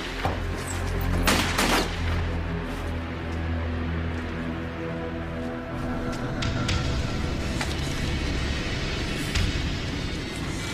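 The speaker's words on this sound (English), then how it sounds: "Someone's shooting at us." Gunfire in a police drama scene: a few sharp shots crack early on, then scattered fainter reports over a steady low rumble.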